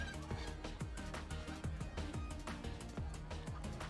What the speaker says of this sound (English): After I watch one more chicken get owned.